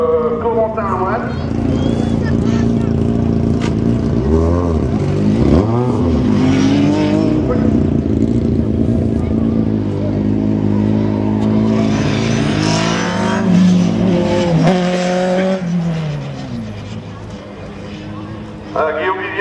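A rally car on a slalom course at Le Neubourg, its engine revving and shifting through changing pitch as it accelerates and brakes, loud and close, with an announcer talking over it.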